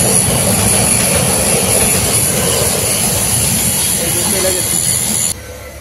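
A long passenger train rumbles past nearby, a loud steady roar of wheels and cars that holds and then cuts off abruptly near the end, with a voice heard faintly under it.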